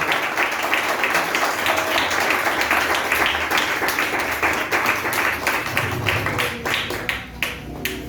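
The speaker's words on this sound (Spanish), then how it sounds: "Un aplauso al Señor." A church congregation claps for the Lord, a dense wash of applause that holds steady and then thins out toward the end, with scattered individual claps.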